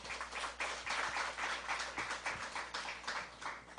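Applause from a church congregation at a Sunday afternoon worship service, a dense wash of many hands clapping steadily throughout with no talking, moderately loud and continuous.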